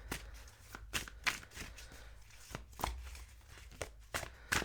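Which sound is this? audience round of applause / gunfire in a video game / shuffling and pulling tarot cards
shuffling and pulling tarot cards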